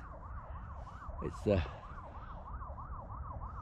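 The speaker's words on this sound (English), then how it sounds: "as you can hear sirens going" Distant sirens wail in a continuous rising and falling pattern near a forest outside Lyndhurst in the New Forest, with a brief spoken remark and rustling partway through.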